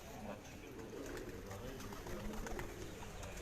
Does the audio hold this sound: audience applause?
no